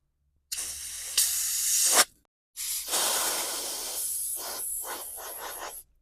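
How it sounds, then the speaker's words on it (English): Compressed air is forced through a string trimmer carburetor needle in two close hissing blasts, the second longer with sputtering, pulsing variations before cutting off. "I'm going to see if I can force some air through the needle."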